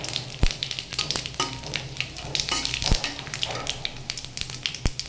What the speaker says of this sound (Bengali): আদাটাকে আমি লাল লাল করে ভেজে নিয়েছি এবারে দিয়ে দিচ্ছি তেজপাতা আর জিরে